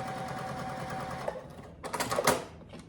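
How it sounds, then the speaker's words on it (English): A sewing machine stitches fabric diagonally in two bursts, a steady whirring run, then a brief pause before a second, sharper run of rapid needle clatter that stops abruptly. "And I'm going to sew it diagonally."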